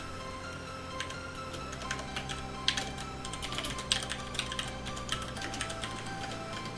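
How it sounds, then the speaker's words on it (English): Steady clatter of keys on a computer keyboard, fast irregular taps with brief pauses, close and clear over a faint background hum. "I always have trouble typing with this honking big microphone in front of my face"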